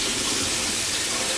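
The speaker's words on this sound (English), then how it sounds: "I'm just gonna rinse it out until the water's clear and gradually increase the temperature" Tap water gushing steadily at close range while a tie-dyed shirt is rinsed under it, a dense continuous splashing rush with no pauses.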